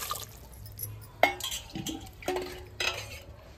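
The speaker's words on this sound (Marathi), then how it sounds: "वाटाणे शिजवण्यासाठी आपण आता चुलीवर कुकर ठेवून घेऊया।" A pressure cooker is set on the stove to cook peas, with clattering metal, clinking pot and utensil knocks, and splashing water in a home kitchen, the sharp sounds coming in separate bursts.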